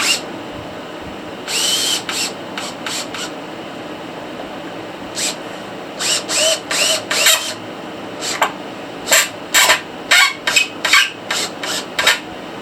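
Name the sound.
screws being screwed into hard fossil rock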